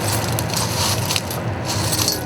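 Crunchy crackling as a hot glass gather on a blowpipe is pressed into broken blue glass pieces, a dense close crushing texture lasting a couple of seconds.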